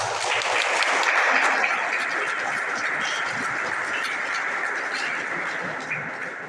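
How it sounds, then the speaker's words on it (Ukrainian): Sustained applause from an audience at a zonal volleyball selection event, steady and dense throughout, with no speech over it. "Оплески"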